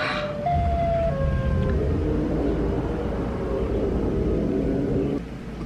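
A loud, steady wailing siren tone with a low rumble beneath it, sustained for several seconds before cutting off abruptly near the end.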